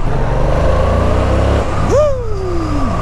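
A Yamaha R7 motorcycle engine rumbles steadily, then revs up sharply and winds down as it pulls away, loud and close.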